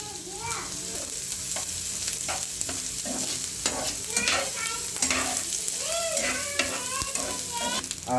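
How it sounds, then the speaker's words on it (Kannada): Onions frying in a pan until brown make a dense, continuous loud sizzle, with frequent stirring scrapes throughout, up close and without talk. "ಈರುಳ್ಳಿ ಈಗ ಚೆನ್ನಾಗಿ ಬ್ರೌನ್ ಕಲರ್ ಬರೋಷ್ಟು ಫ್ರೈ ಮಾಡ್ಕೊಳ್ಳೋಣ"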